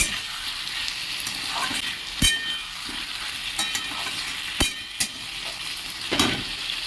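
Cut potatoes sauté with spices in a pan, a continuous sizzle under repeated sharp spatula scrapes and knocks against the metal, close and clear with no talking.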